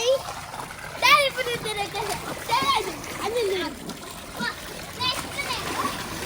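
A child splashes around in a small terrace swimming pool at home, with intermittent watery splatters under frequent speech from a child and adults.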